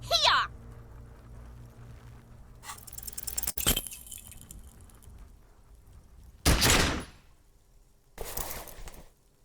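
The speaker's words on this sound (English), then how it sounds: "You hear an explosion within the weapon in your hands." Three sharp, loud blasts from a weapon in the video game Disco Elysium ring out at uneven intervals, each a brief, harsh burst, with quieter clicks and rattles between them.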